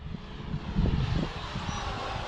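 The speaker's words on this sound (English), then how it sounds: "I can't even hear my plane over yours. It's terrible." Steady drone of electric RC model airplanes, including an FMS T28 Trojan run at full throttle on a grass field, a continuous motor whine that swells slightly midway as a plane passes close.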